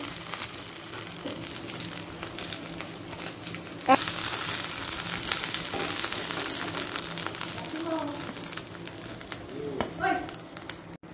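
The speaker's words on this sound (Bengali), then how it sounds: "দেখুন মাছটা প্রচণ্ড তেল ছিট করছিল, তাই ঢাকা দিয়েছিলাম।" Pabda fish fries in hot oil with a continuous sizzle and occasional spattering pops, then a sharp clatter as the pan is handled, with faint kitchen noise underneath.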